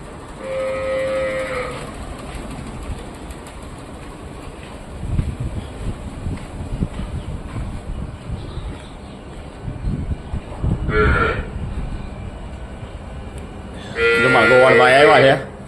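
Cattle moo inside a cow shelter with a water trough and overhead fans, calls rising at intervals over steady background noise, with people talking throughout and one louder, longer lowing near the end.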